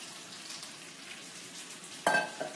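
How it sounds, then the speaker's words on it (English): Quiet sizzling of shrimp stir-frying in vegetable oil over high heat, with a sharper clatter of a utensil stirring in the pan near the end. "He's really just stir frying the shrimp right now to cook it"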